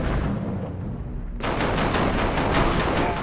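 Gunfire in the video game Stranglehold: a muffled stretch gives way to a rapid, loud run of evenly spaced shots, close and continuous, with no talking.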